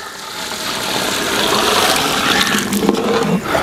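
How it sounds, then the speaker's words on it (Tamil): Water pours steadily into a cooking pot of basmati biryani rice, a rushing splash that rises slightly in pitch as the vessel fills. "தண்ணி ஊற்றிக்கலாங்க"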